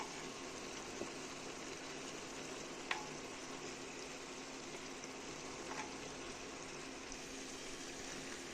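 Rice frying in a pot gives a steady, soft sizzle with a faint watery hiss, with a few small clinks or stirring taps scattered through. No one speaks.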